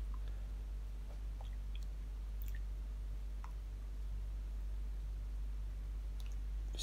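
Rye sourdough bread dough is mixed with mashed potato that has been pushed through a sieve, making soft, wet squishing and sticky slapping sounds at an uneven pace. It is quiet and close, with no talking.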